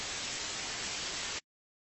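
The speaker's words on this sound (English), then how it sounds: "an easier way to achieve the same thing using a stereo white noise sample" A stereo white noise sample played in FL Studio gives a steady, loud, even hiss that runs for about a second and a half, then cuts off abruptly into silence.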